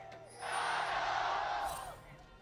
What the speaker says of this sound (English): Crowd just going off.